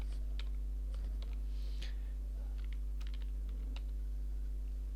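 Close, steady clatter of a computer keyboard as a search phrase is typed, irregular clusters of crisp keystrokes over a constant low electrical hum, with no talking.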